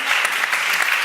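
An audience at a debate on citizen participation in public policy bursts into applause, a short, loud, dense spell of many hands clapping close by.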